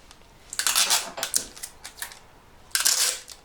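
Clear plastic sellotape is pulled off the roll in several quick rasping tears and pressed down while making a Wizzer spinning toy, close and fairly crisp with short pauses between pulls.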